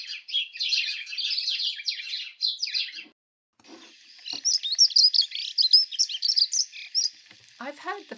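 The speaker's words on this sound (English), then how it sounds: "The chirping and chattering of house sparrows is simple and distinctive." House sparrows chirping and chattering in quick, busy bursts, with a short pause partway through before the chatter resumes, fairly close and lively with no voices.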